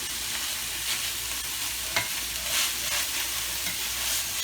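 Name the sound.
garlic frying in a pan for spaghetti sauce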